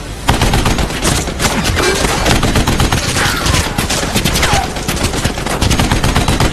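Dense gunfire from an action film, rapid machine-gun bursts and scattered shots packed into a loud, continuous fusillade with no pause and no voices over it.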